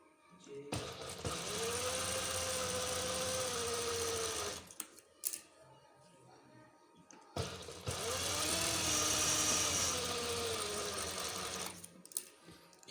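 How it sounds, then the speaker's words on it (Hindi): A sewing machine stitches the sides of a cloth face mask in two long, steady, close runs of fast whirring, separated by a short pause with light handling noises. "अब ये दोनों साइडें सिलाई करनी है"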